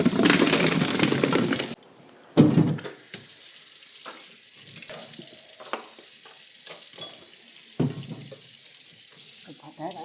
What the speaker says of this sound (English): Put that in hot water and fill this up.